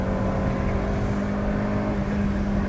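A 1990 Mazda Miata with a 1.6-liter four-cylinder drones steadily while climbing uphill into the wind with two people aboard, a continuous, even engine hum with a faint wind rush and no talking.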